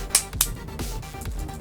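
A few sharp plastic clicks and snaps as a ThinkPad laptop keycap snaps into place, close and quiet, with small handling noises between them.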